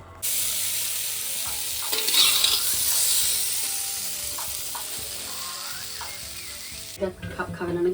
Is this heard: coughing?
no